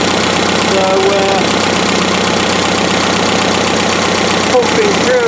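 A Mercedes OM 636 marine diesel engine runs with its tappet cover off, a loud steady clattering idle with rapid rhythmic valve knocking that continues throughout at close range.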